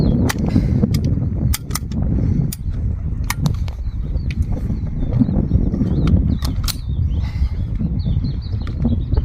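A stiff-action rifle being fired and worked outdoors, sharp close cracks and mechanical snaps repeated irregularly over a constant rumbling background.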